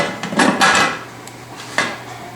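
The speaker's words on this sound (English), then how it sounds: "I'm going to go ahead and put the lid on." A metal lid is set onto a pressure cooker while bottling beans, giving a few close clanks and scrapes of metal on metal followed by a lighter clink.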